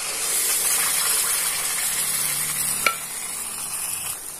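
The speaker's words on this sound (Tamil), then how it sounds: "இப்ப இதை நல்லா கைவிடாம கிளறிக்கிட்டே இருங்க, இல்லைன்னா நல்லா அடி பிடிக்க ஆரம்பிச்சிடும்." Moong dal mixture frying in ghee with roasted wheat flour for jaggery Ashoka halwa, stirred continuously: a steady soft sizzle and hiss with light scraping, one brief sharper clink partway through, no talk.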